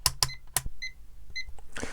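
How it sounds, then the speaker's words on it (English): A multimeter set to continuity mode gives two short, high electronic beeps while a ribbon cable in a broken Sony stereo system is tested. Sharp clicks and taps from the probes come between the beeps, close and fairly quiet. "Multimeter in continuity beep mode."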